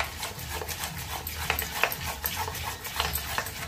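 Milk and cream are whisked in a bowl set on a plate of ice for malai kulfi, with quick, rhythmic scraping and clinking strokes, close and fairly soft.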